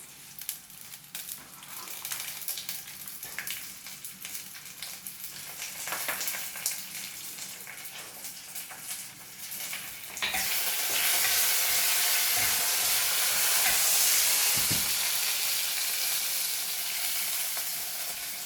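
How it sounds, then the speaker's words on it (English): Dry chili and curry leaves crackle and sizzle in hot oil while tempering for traditional patti rasam, a steady frying hiss that jumps sharply louder about halfway through, close and continuous with no talk. "Once it's crackling, You put in your dry chili. And hear the crackling sound."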